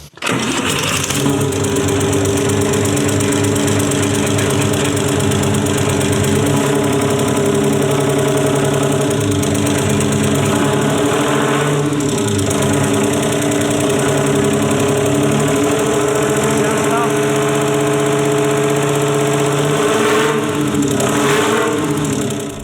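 A three-cylinder Isuzu TS3 diesel engine in an Isuzu truck runs steadily and loudly nearby for a long stretch, with a rough, lumpy idle rhythm throughout.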